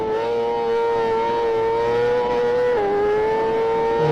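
A loud, steady engine drone with a sustained high pitch that dips slightly partway through, like a motorcycle held at high revs.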